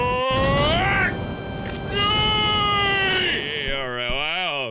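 A cartoon cat in the Happy Wheels video game lets out a loud, drawn-out, rising and falling meow, then a wavering whiny yowl, all close and clear.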